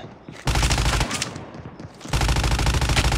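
Sentry gun machine gun fire in the mobile shooter COD Mobile, night mode match: loud, dense rapid bursts hammering in two long stretches with a brief quieter gap between, no voices.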